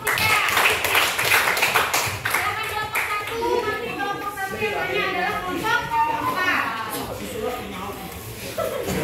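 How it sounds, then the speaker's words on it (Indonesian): Students applaud a group in a classroom, a dense run of clapping from many hands that fills the stretch alongside children's chatter and voices underneath. "tepuk tangan untuk kelompok 3"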